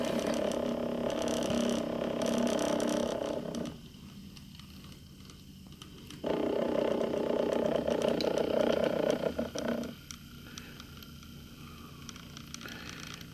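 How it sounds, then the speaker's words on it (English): A flywheel spins down under a magnetic brake, producing a close whirring, ratcheting hum that drops away and returns in stretches as it gradually slows. "It's been spinning for about a minute now as it's slowing down."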